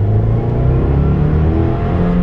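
A 2015 Subaru WRX Limited engine revs loudly and continuously, a rich mid-pitched growl whose tone rises and shifts as the revs climb, heard up close with no voices over it.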